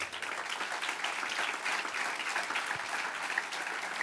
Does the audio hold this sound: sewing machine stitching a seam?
no